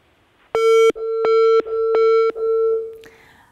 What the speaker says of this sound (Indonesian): sepertinya sambungan telepon kita kembali terputus